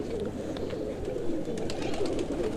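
Pigeons in a breeding loft giving soft, low repeated coos over a steady murmur of flock noise, with brief faint chirps scattered throughout.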